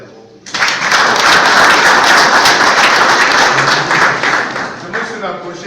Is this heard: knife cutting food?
no